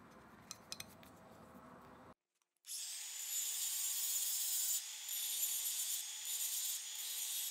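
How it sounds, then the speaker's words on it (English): Stainless steel screws are ground down on a power grinder, a steady loud, bright grinding hiss that starts after a brief silence and holds continuously with slight surges, following some quieter handling clicks at the start. "so I had to grind them down a little bit to fit."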